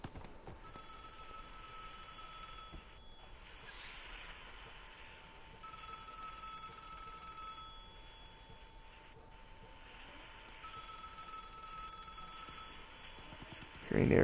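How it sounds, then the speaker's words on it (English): Telephone ringing in a video game: a faint electronic bell rings in repeated bursts with pauses between them, over a low ambient hum. "I don't want to pick up that phone."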